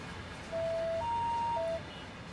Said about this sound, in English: At least you can hear this outside the cab. The alarm.